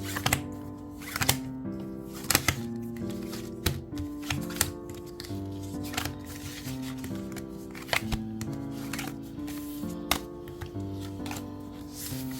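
Tarot cards are shuffled and drawn by hand, giving repeated crisp riffling flutters and sharp slaps close up, heard over a soft, steady music bed.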